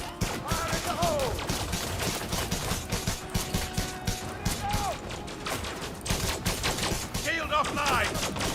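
Weapons fire in a spaceship battle in Elite Dangerous, dense repeated bursts and rapid volleys running continuously, loud and close, with voices calling out over the shooting.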